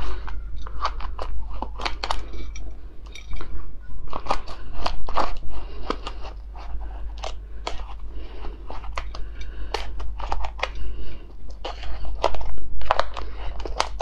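Close crunching and chewing of spicy enoki mushrooms, with crisp, irregular bites and crackles running steadily throughout and no talking.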